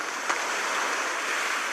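Water rushing out of a broken dam in the film Baahubali 2, a steady, broad roar of torrential flow that stays constant and even throughout, with no voices.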